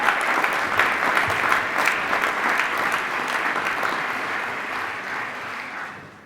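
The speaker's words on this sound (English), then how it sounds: "let's have another round of applause for all of our specialty award winners and our first team All-Valley members" An audience at a league awards luncheon claps steadily for specialty award winners and first-team All-Valley members, a dense, sustained round of applause that stays loud before fading slightly toward the end.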